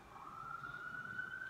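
Emergency vehicle sirens sound outside, a faint steady wailing tone rising slightly in pitch, distant and thin beneath low room noise.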